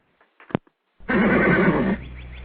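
A horse gives a loud, close whinny lasting about a second, with a shrill rising start and a wavering, fluttering body, preceded by a few faint soft noises and followed by a lingering low tail.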